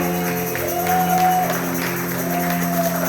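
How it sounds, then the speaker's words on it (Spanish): A church congregation applauds during a worship service, the clapping and a few shouts sitting under sustained organ or keyboard chords and held tones, fairly loud and steady throughout. "Levanta tu aplauso delante del Señor"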